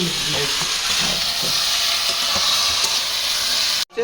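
Mutton pieces sizzle and fry loudly with spice paste, salt and tomato in a hot pan for a curry, a constant close hiss with faint stirring knocks throughout.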